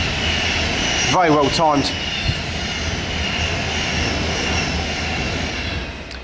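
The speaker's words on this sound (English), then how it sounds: "that's the Pendolino from London to Liverpool" A Pendolino express train on the London to Liverpool line passes close by, its steady rumble and rushing roar sustained throughout, with a brief horn-like whistle early on and a voice speaking briefly over it.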